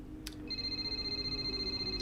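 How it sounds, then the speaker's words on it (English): A phone rings in F1 2021 Braking Point, a steady electronic trill with a pulsing tone that starts after a brief click and holds for a couple of seconds. "Phone call."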